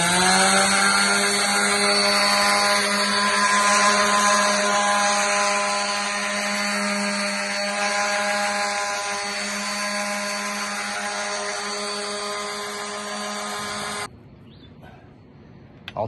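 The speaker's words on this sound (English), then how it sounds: "So I'm trying to take all the varnish off and see if I can make it work." Power tool stripping varnish from a swollen, storm-damaged wooden door, a loud continuous high-pitched whine with steady grinding that runs unbroken for about fourteen seconds, then cuts off abruptly.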